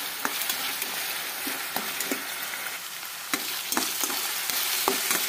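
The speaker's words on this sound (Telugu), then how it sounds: "ఇలా ఉల్లిపాయ పచ్చిమిరపకాయలు ద్వారాగా వేగనివ్వాలి మంచి కలర్ వచ్చే వరకు." Onions and green chillies fry in a pan while a spoon stirs them, a continuous sizzle broken by sharp scraping clicks at irregular intervals, close and alone with no voices.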